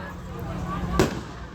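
A single carnival firework bursts with a sharp close boom against a low background murmur of people.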